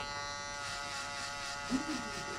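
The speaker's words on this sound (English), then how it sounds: "Next step, we're gonna use the shaper." An electric hair shaper buzzes steadily during a mid drop fade haircut, a close, continuous electric hum that shifts slightly as it touches the hair, with brief speech partly audible over it.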